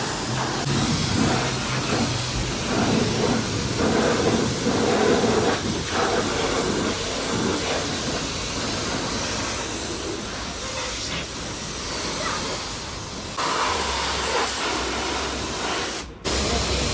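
Car wash spray hissing steadily over a car for the whole stretch, a dense broadband water spray with slight shifts in strength and a brief break near the end.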